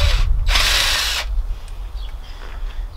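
A power tool, likely an impact driver or drill, zips out bolts on the gallery gasket cover of a Nissan VQ V6 engine in one loud burst of about three-quarters of a second, followed by quieter shop ambience.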